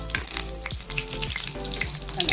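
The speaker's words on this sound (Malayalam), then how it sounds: "ഇതേപോലെ ബാക്കിയുള്ള എല്ലാ പൊട്ടറ്റോയും നമുക്ക് ഫ്രൈ ചെയ്തെടുക്കാം" Potato snack pieces frying in hot oil make a loud, close, dense sizzle with crackles and occasional stirring scrapes, steady throughout and with no voices.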